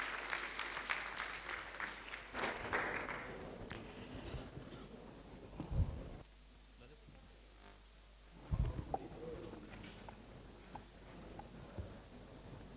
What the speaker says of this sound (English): A big round of applause to welcome her here to Singapore.